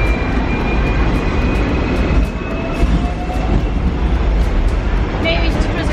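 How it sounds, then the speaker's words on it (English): Hong Kong tram rolling along a city street, a steady loud rumble of wheels and rail noise with faint high squeals, under busy traffic ambience and some chatter. "Maybe we just cruise around in the tram all day today."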